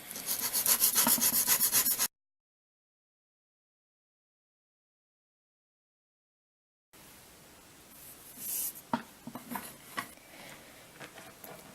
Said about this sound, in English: we're going to take the sandpaper here, and we're just going to start sanding.